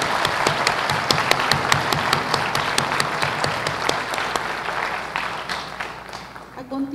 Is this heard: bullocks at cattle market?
no